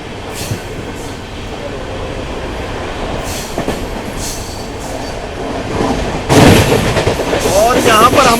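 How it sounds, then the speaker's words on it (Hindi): A Shatabdi Express running between New Delhi and Kalka passes close by, heard from inside an AC chair car on the New Delhi–Amritsar Shatabdi. There is a steady rolling rumble, then a sudden louder rush of the passing train near the end. "हमारी क्रॉसिंग होने वाली है नई दिल्ली से कालका के बीच में चलने वाली शताब्दी एक्सप्रेस के साथ"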